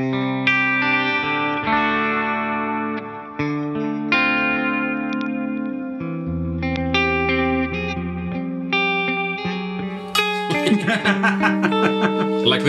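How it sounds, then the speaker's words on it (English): Electric guitar played through a Bias amp with real pedals and a tape delay effect, a chordal and melodic passage whose repeats trail each note with soft echoes, sustained and moderately loud with no voices. "Tape delay."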